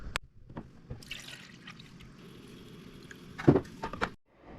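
Fresh water trickles and splashes into a Keurig K-Latte coffee maker reservoir in short bursts, with a few clunks and knocks around it; close and fairly quiet.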